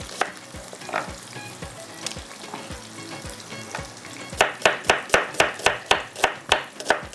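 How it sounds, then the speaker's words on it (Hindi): Onions sizzle in a pot of hot oil while a masala base is started: a steady, close frying hiss, then a run of rhythmic stirring scrapes in the last few seconds. "चलिए हम इसमें डालते हैं प्याज।"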